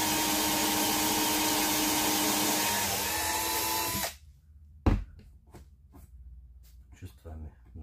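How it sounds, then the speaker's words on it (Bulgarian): Power drill boring at an angle into a floorboard while laying a wooden plank floor, a steady loud whine for about four seconds that cuts off abruptly, followed by a sharp knock and scattered light tapping. "Гледаме дъската къде е, пробиваме на криво"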